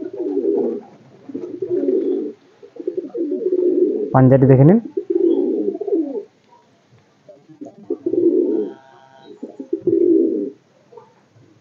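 Madrasi pigeons in a loft give low, throaty coos mixed in with someone talking steadily close by, the calls coming in repeated bursts between and under his speech.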